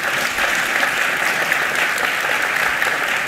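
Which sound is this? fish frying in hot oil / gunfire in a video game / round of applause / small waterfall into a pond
round of applause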